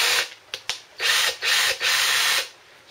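A slow Ryobi cordless drill whirs in several short bursts, revving up and cutting off, with brief stuttering taps between runs; close and fairly loud.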